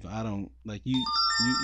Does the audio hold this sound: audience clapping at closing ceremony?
no